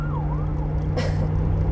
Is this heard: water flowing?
no